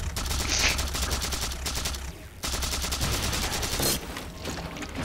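Rapid automatic gunfire in the Halo 4 video game, dense rattling bursts close and loud, broken by a brief pause and continuing to the end.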